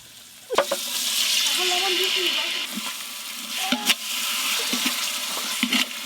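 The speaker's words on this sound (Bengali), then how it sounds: "বাটিতে অনেকটা মশলার পেস্ট লেগে আছে, জল দিয়ে ধুয়ে দিয়ে দেব" Water rinses leftover spice paste out of a bowl while chicken biryani is being cooked, a loud, continuous rushing hiss mixed with sizzling that lasts nearly the whole stretch, broken by a few sharp clanks of the bowl.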